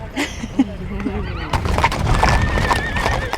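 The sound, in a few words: horses neighing and hooves clip-clopping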